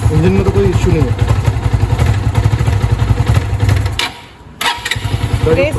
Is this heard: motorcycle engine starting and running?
yes